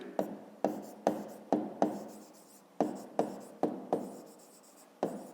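A pen scratches across paper while writing out a fifth-grade math exercise, with about a dozen short, crisp strokes in an uneven rhythm, close and quiet, with no talking.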